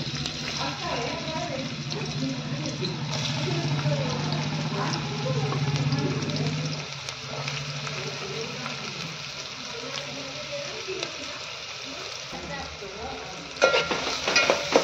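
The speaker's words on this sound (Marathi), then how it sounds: "तेल गरम झालं की त्यात पहिल्यांदा आपण कांदा टाकून घेऊ" Onion dropped into hot oil fries with a constant close sizzle and some stirring and scraping noise, slightly louder in the first half and easing off later, ending in a few sharp clatters.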